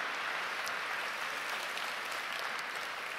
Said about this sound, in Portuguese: Quem pode dar um aplauso bem forte ao Senhor por essa verdade bíblica?